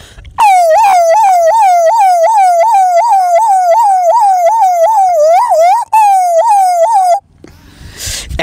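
A man imitates a police car siren with his voice, a loud, close, rapidly repeating wailing whoop held for several seconds with one brief break, then stopping abruptly.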